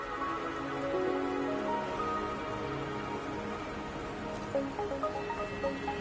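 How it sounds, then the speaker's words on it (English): Soft, steady rainfall with scattered drips in the video game Wuthering Waves, heard at low volume alongside a faint tonal musical background. "Don't worry, the rain won't last much longer."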